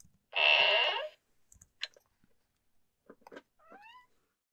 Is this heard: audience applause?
no